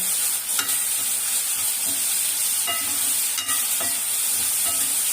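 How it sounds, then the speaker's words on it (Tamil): Pirandai (adamant creeper), onion and garlic sautéing in a pan, a steady hiss of frying with light scrapes of a stirring spoon, close and even throughout with no talk. "நல்லா வதங்கணும் பிள்ளைங்களா. இது ஒரு 5 நிமிஷமாச்சும் வதங்கணும்."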